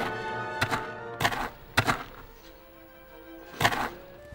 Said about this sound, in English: I make the sound of his footsteps.